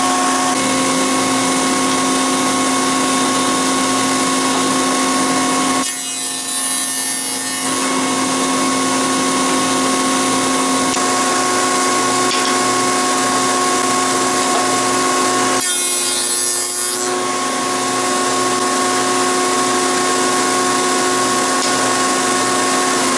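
Cabinet door rails fed through a router table against a coping jig and blowout block, a steady loud motor whine running throughout with two distinct bursts of cutting noise a few seconds long, no voices.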